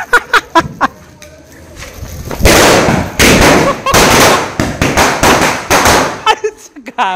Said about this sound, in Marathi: तिकडे वाजवतोय फोड फटाके